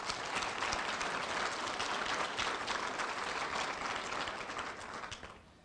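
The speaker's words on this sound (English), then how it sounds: "Round of applause." Sustained applause from an audience at a university leadership awards event, a dense, even clapping that holds steady and then tapers off toward the end.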